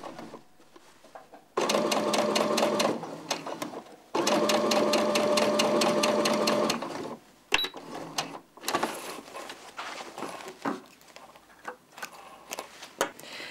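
A sewing machine understitching the facing of a garment runs in two sustained bursts of steady, rapid mechanical stitching, close and loud, with a short pause between them, then gives way to quieter handling clicks and rustles.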